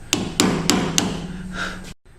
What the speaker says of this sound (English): This chamfering will allow you to hammer your CPVC into the PVC.